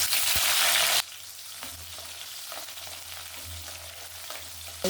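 Onion pieces fry in hot oil with fenugreek and mustard seeds for a Nellore-style fish curry, a loud burst of sizzling when they hit the pan settling into a steady crackle and occasional stirring, with no talking.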